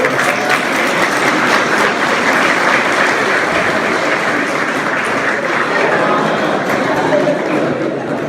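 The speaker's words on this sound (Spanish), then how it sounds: "Démosle un aplauso a esta criatura que acaba de llegar" A loud, sustained roar of audience applause fills a political rally, dense and continuous throughout, with crowd voices mixed into the clapping.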